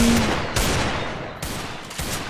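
Rapid gunfire in the Free Fire video game, a loud continuous fusillade of close shots with a few brief breaks, no talk over it.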